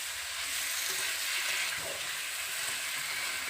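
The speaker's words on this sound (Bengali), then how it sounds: "আলু, পটল, ঝিঙ্গেগুলোকে ভালো করে মশলার সঙ্গে কষিয়ে নিচ্ছি।" Potato, pointed gourd and ridge gourd sauté with spices in a pan, giving a steady, even sizzle that runs the whole time with no talking.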